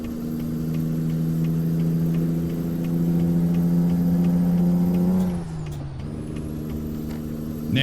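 A Kenworth K100 cabover truck engine in American Truck Simulator drones loud and steady, then its pitch dips sharply during a gear shift before settling back into a strong, continuous hum.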